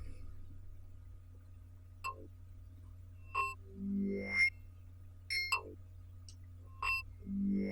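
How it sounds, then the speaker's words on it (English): Resonating spikes from the Corpus resonator layered over a psytrance lead: sharp metallic pings and tuned resonant bursts flare up a handful of times in irregular clusters above a steady low drone. "we're using it to kind of add a little bit of resonating spikes on top"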